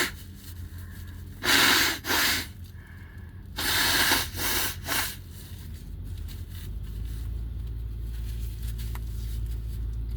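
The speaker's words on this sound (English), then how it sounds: "I gotta blow my nose." A person blows their nose close to the microphone, two strong honking bursts with a few shorter snorts and rubbing after each, then quieter background hum.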